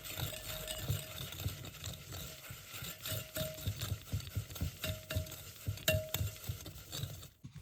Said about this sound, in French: Ajoutez un gros jaune d'œuf et mélangez.